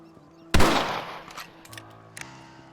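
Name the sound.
rifle gunshots in video game Red Dead Redemption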